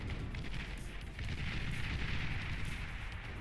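Units firing in a large eight-versus-eight battle on a mountain map in the strategy game Beyond All Reason, a dense steady rumble of distant artillery and gunfire rolling on without a break.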